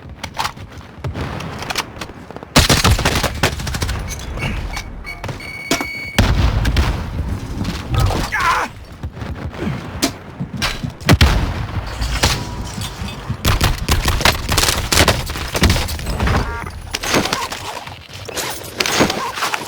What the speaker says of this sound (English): I am under fire!